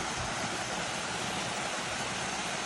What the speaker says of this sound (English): Next to this little waterfall.